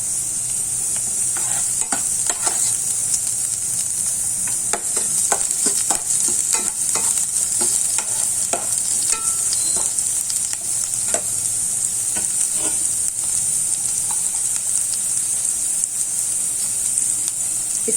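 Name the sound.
chopped ingredients frying and being stirred in a pan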